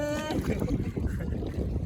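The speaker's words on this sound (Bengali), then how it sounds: "ওইদিকে একজন মাঝি ভাই নৌকা নিয়ে যাচ্ছেন" A boat moving across floodwater around a village with flooded houses, a low rumbling churn of water and wind buffeting the microphone, steady and close, with no voices.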